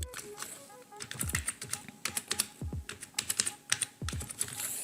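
Typing on a computer keyboard: a close run of quick, uneven key clicks with short pauses and a few heavier thumps, heard with no speech over it.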